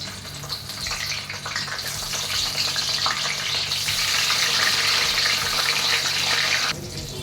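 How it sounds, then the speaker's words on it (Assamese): Eggplant (brinjal) pieces frying in plenty of hot mustard oil, a steady loud crackling sizzle that holds throughout and drops slightly near the end. "এয়া তেল গৰম হৈ গ'ল ইয়াতে দিলোঁ বেঙেনা"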